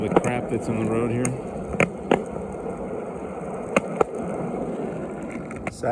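Skateboard wheels rolling over debris on a road surface make a continuous gritty rumble broken by sharp clicks and cracks where small bits are struck, heard close and steady.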